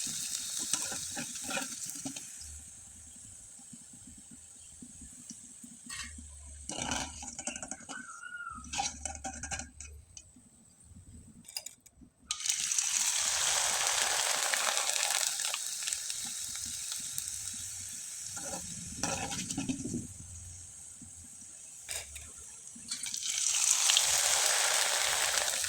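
Mango rice-cake pitha frying in hot oil, a dense steady sizzle that swells loudly at times, broken by occasional clinks and stirring of utensils against the pan, heard close up.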